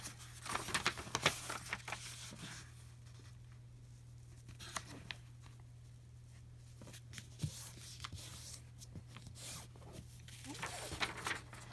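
Sheets of paper being folded and creased by hand to make a zine, producing soft rustling and crinkling with sharp crisp snaps near the start, set against a steady low hum in a quiet room.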